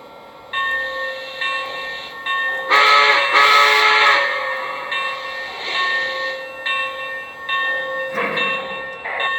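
A Lionel Legacy model train engine plays its departure sound sequence: sustained layered horn or whistle tones and mechanical rail sounds, loud and close, swelling and fading in bursts with no talking.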